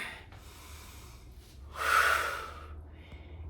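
Breathing during a Pilates exercise with light weights and a mini-band: a soft breathy inhale followed by a stronger, airy exhale swelling and fading, close and without speech.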